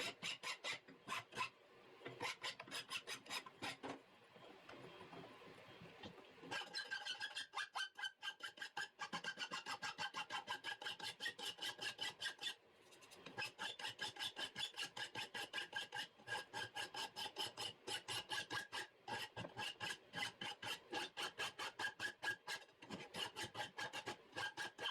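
A hand file deburrs a steel knife blank with steady, rhythmic rasping strokes, loud and close, continuing for the whole stretch with only brief pauses between passes.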